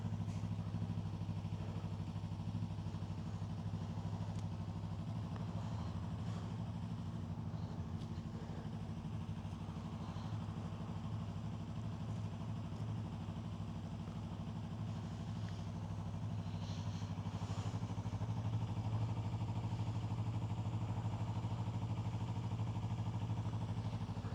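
A Yamaha R3 motorcycle engine with about 6,000 km on it idling at a steady low rumble, fairly quiet and constant, with faint clatter and small bursts now and then.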